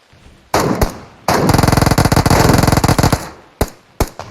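Loud, close Uzi submachine gun fire in PUBG Mobile: a short burst, then a sustained rapid rattle of shots lasting nearly two seconds, followed by a few isolated single bursts.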